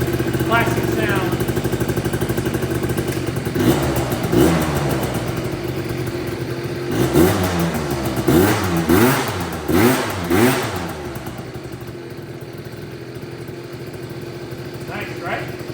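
A two-stroke Yamaha Jog scooter engine idles unevenly, then revs in several rising and falling bursts before settling back, close and loud. A voice talks briefly over it.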